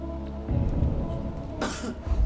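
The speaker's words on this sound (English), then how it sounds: "Whittock would signal correct answers with a cough" One short, sharp cough breaks out in a television quiz show studio, standing alone over a low background hum.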